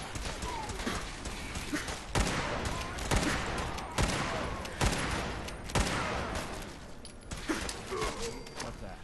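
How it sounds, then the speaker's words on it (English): Marksman rifle fired in Fallout 4's Far Harbor, a series of loud, sharp shots spaced a second or so apart, each cracking through a dense layer of game ambience. "let's try the Marksman rifle again"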